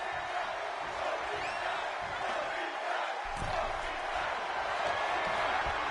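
A video game wrestling-style crowd cheers and roars steadily during a hockey stick match, a loud continuous murmur with a brief thud partway through.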